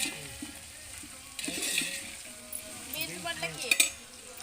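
Beans and cauliflower fry in a pan for vegetable biryani, a soft, close sizzle with intermittent stirring scrapes and light utensil clinks, louder in short bursts partway through.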